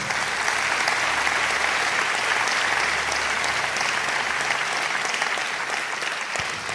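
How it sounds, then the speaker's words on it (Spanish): A church congregation applauds loudly and steadily from start to finish, a dense wash of many hands clapping with crowd noise underneath. "Vamos, dale un aplauso al Señor."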